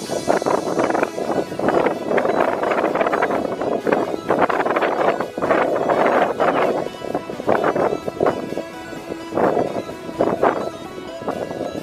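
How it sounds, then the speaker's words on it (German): Wind gusting across a high rock ledge at a cliff edge, a loud continuous roar buffeting the microphone in surges and lulls throughout. "Ein wenig windig hier oben an der Kante."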